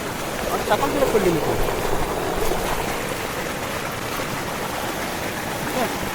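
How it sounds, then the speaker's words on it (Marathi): Heavy monsoon rain in a Konkan village, a dense, constant roar of rainfall and running water close by, steady throughout with no clear breaks. "पाऊस पण जबरदस्त लागला ना"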